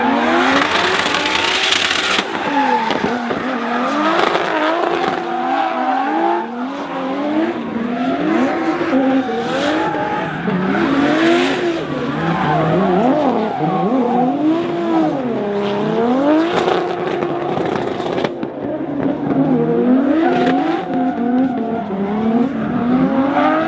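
A 2JZ-swapped Nissan 370Z drives along a mountain road, its engine loud and close with rising and falling revs and turbo whistle woven through a continuous, rough exhaust roar.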